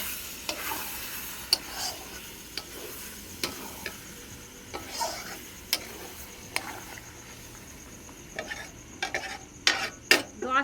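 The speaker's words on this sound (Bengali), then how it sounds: "এই যে ম্যারিনেট করে আমি চিকেনটা রেখেছি, এবার আমি দিয়ে দেব। ভালোভাবে নেড়ে নেব।" Marinated chicken frying in a pan and being stirred: a continuous close sizzle with sharp spatula scrapes and clacks at irregular intervals, growing busier and louder toward the end.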